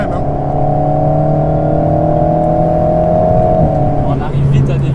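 Alpine A110 Pure sports car accelerating, with a steady engine drone whose pitch climbs smoothly, then shifts near the end. The sound is loud and close, as heard from inside the car.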